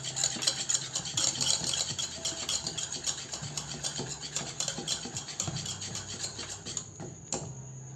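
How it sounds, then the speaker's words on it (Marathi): Dalda vegetable shortening being mixed by hand for nankhatai dough, a steady close scraping and rubbing with soft utensil clinks, continuing rhythmically throughout without any talk. "डालडाला छान मिक्स करू."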